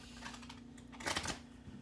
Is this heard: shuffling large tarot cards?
yes